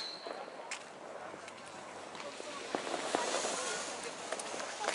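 Distant New Year's Eve fireworks pop and crack sporadically outdoors in Germany, with a few sharper bangs over a steady crackling background and muffled voices.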